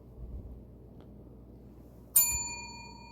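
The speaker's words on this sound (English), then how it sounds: "there's the bell, folks." A single bell strikes once, bright and clear with ringing overtones, after a quiet, faintly rumbling room, then fades slowly over the next second.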